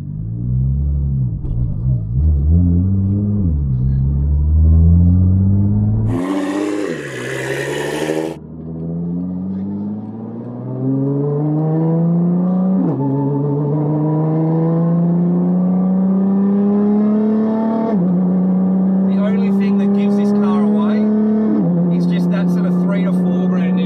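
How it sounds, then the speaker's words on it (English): A 1600 horsepower R35 street car from a Precision Racing build accelerates on the road, its engine note rising and dropping through several gear changes, loud and close, with a brief burst of rushing noise partway through. "can a 1600 horsepower R35 still drive like a normal car?"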